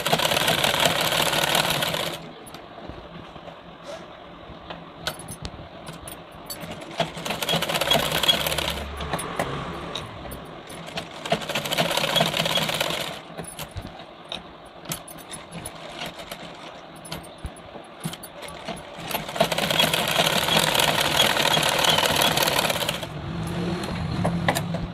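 A sewing machine stitches lace onto a sleeve in several bursts of rapid whirring, each a few seconds long, separated by quieter pauses with faint handling noise.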